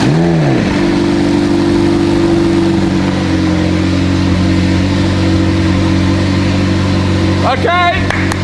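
A rebuilt, previously wrecked McLaren 720S fires up, a brief starter crank settling into a loud, steady idle with a short rev toward the end, while people speak over it.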